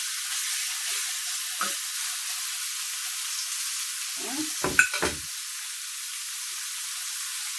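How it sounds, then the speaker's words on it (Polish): Pork neck laid onto a hot grill pan, a steady bright sizzle throughout with a few clanks and thumps of meat and pan in the middle, close and moderately loud. "Otwieram gorącą patelnię. Nakładam sobie mięso."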